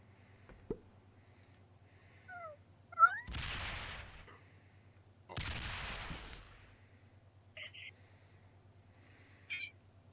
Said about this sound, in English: my cat's being really super annoying